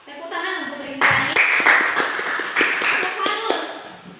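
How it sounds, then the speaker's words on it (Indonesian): Group applause in a classroom or church study gathering, a burst of clapping from many hands that starts about a second in and carries on steadily, with voices and background chatter mixed underneath. "Tepuk tangan untuk Rintiani."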